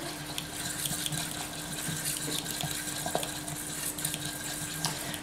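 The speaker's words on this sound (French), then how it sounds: "On va touiller." Stirring a mixture in a pot for leek mini quiches, faint soft scraping and wet swishing strokes with light clinks in a kitchen, quiet and continuous with a low steady hum behind.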